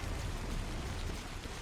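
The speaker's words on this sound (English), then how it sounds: "Even though it's raining a lot." Heavy, steady rainfall over open terrain in Death Stranding, a dense unbroken hiss filling the short stretch at a constant loud level with no voices.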